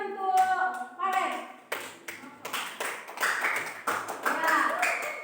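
A class of children claps in uneven bursts, close and lively, with young voices chattering over and between the claps.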